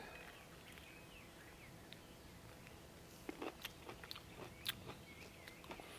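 A fresh cherry tomato picked in a summer vegetable garden is bitten and chewed, giving faint, close crunchy clicks over quiet outdoor ambience.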